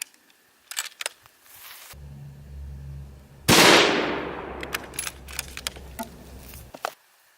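.223 rifle fired through a truck door into plywood: one sharp, loud crack with a decaying ring, preceded by faint clicks and a low hum, followed by scattered small clicks and rattles.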